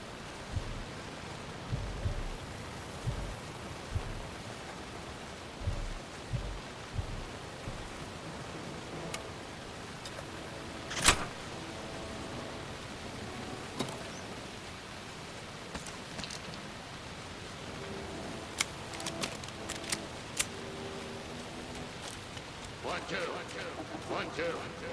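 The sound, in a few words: rain falling in the video game Alan Wake 2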